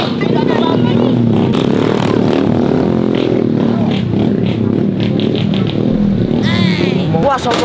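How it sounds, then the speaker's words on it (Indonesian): Motorcycle engine revved repeatedly in a street standoff between a drag-bike gang and a truck gang, loud and close amid constant babble and shouting voices throughout. "Beraninya dia geber-geber di depan geng kita."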